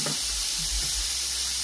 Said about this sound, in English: now I'm gonna take my orange and squeeze my orange over the salmon steak without getting burned